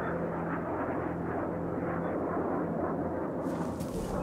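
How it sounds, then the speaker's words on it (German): Azrael reconnaissance drone in a video game passes overhead as a steady, loud droning engine roar with a continuous rumble, holding level throughout with a brief hiss of higher noise near the end. "Azrael-Drohne, so heißt sie."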